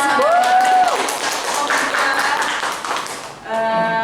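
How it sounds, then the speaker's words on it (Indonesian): Classroom applause for a group presentation in an Islamic religious education lesson, a burst of clapping mixed with overlapping voices and a sustained tone, then quieter chatter near the end. "Tepuk tangan dong untuk"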